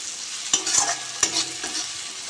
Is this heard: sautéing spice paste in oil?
yes